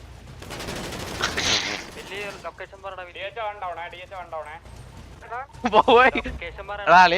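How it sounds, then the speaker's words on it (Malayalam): Video-game gunfire crackles in rapid bursts, a heavy volley early on and another near the end, mixed with players talking over the action throughout. "ഞാൻ വെടി വെച്ചിട്ട് അടാ"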